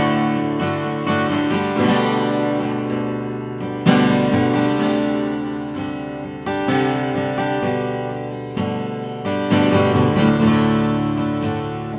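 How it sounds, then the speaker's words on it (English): Acoustic guitar in drop D tuning strums chords over a deep, ringing low bass note, full and resonant, played alone with steady rhythmic strokes. "So that's the drop D tuning."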